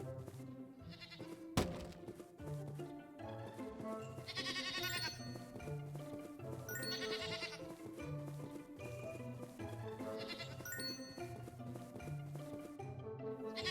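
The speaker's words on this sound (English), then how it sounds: "I hear you, goat." A goat in a video game bleats several times in wavering, nasal calls over a looping game soundtrack, with a sharp click near the start.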